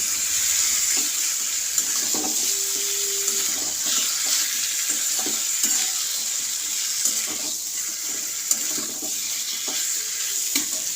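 A potato curry is sautéed and stirred in a pan with a steady close sizzle. Scraping and clinking spatula strokes recur throughout, with one brief tonal hum in the background.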